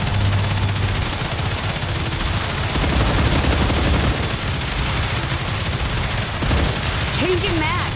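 Sustained gunfire in the StarRupture game, dense bursts of shots overlapping with game effects for the whole stretch, with a voice speaking beneath.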